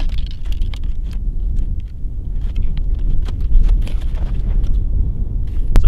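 Heavy wind buffets the microphone throughout, a loud low rumbling roar with gusty fluctuations and occasional faint clicks.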